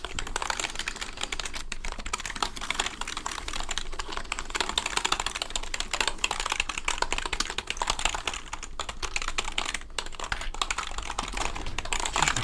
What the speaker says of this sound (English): I'll just give you a little listen here on the keyboard